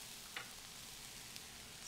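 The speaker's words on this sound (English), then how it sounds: "You hear the sizzle." Soy sauce hits a hot pan of sweet potato fried rice, giving a faint, steady sizzle with a few tiny pops and no voices over it.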